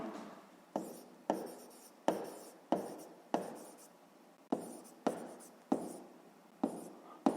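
Pen strokes scratch across paper while a sixth-grade math exercise about the dimensions of a rectangular box is written out by hand, about a dozen close, sharp bursts coming in a quick, uneven rhythm against near silence.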